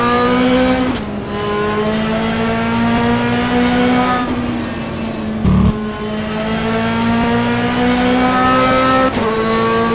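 A GT2 race car in the rFactor racing game runs hard at Mount Panorama, its engine note loud and close, dropping pitch with several sharp gear changes and a brief throttle blip midway.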